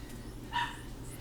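A single short bark from dogs at home rises briefly in the middle, faint and a little distant over a steady low background hum.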